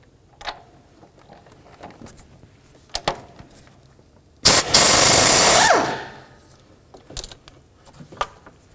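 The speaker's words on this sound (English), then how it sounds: "Let's start by removing our 21mm mounting nut in the center." Loosening the 21mm center nut on the transmission mount of a 2010-2013 Ford Transit Connect: a loud burst of power-tool whirring for about a second and a half, framed by scattered metallic clinks and taps.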